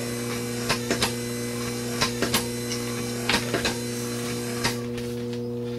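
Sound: wiper motor running a rocking prop

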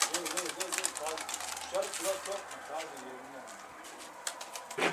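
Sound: Mardin pigeon circling overhead

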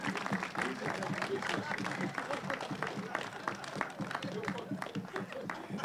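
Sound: audience applause at ribbon cutting ceremony

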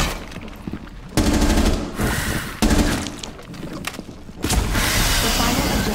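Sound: gunfire in video game Rainbow 6 Siege

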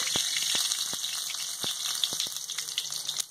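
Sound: bay leaf frying in hot mustard oil in karhai

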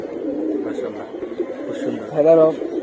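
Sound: pigeon cooing

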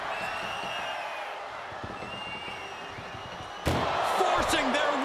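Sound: ambulance door slam in video game

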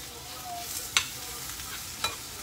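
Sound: spinach sautéing and wilting in a pan

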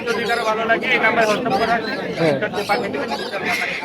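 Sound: birds at a bird market

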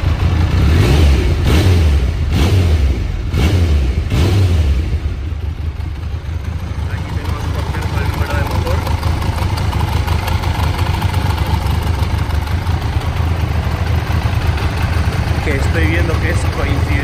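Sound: Triumph Daytona 900 Super III motorcycle engine revving and idling

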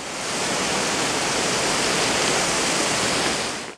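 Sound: waterfall at Atri Muni ashram

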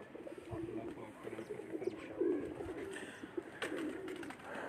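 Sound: pigeons cooing on a rooftop

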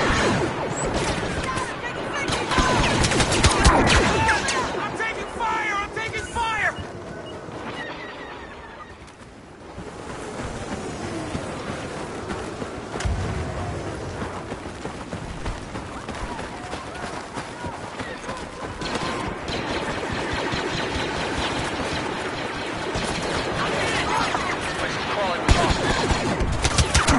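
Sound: gunfire in Star Wars Battlefront video game

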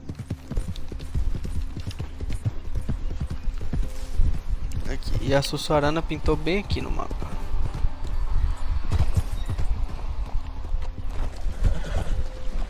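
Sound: horse galloping in video game Red Dead Online

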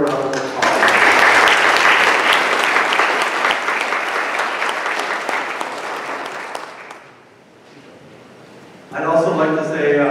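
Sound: church audience applause

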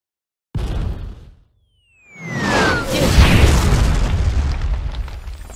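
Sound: cannon fire from a ship in video game Kingdom Hearts

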